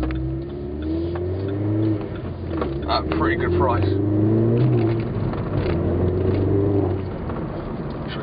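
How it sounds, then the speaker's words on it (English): Vauxhall Corsa VXR fitted with a REMUS 2-piece exhaust, a steady low engine drone with some revving swells running throughout, heard under continuous talking from inside the car. "I'm sure you guys can hear the exhaust, but yeah, that's just a REMUS 2-piece."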